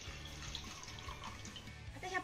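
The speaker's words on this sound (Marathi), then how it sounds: "आता यामध्ये ना आपल्याला एक तांब्या भरून पाणी घालायचंय" A full pot of water is poured into a kadhai on a gas stove, a quiet, close, continuous splashing pour.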